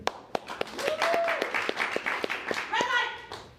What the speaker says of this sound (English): do you clap it up for Ben's superhero movie?